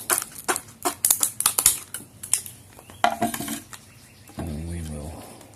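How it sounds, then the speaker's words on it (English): Wire tin snips cut through plastic lock packaging in a quick run of sharp crisp snips and crackles, followed by a low hum near the end. "these wire tin snips work real well"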